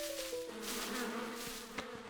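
A cartoon beehive buzzes with many bees, a steady droning hum with a faint rhythmic flutter, fairly close and continuous for about two seconds with no talking.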